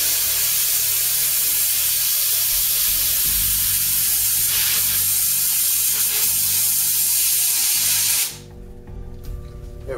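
Compressed air hisses out steadily and loudly as a pressure chamber used for making scale model bricks is depressurized, a continuous broadband rush lasting about eight seconds before cutting off abruptly to a quiet background.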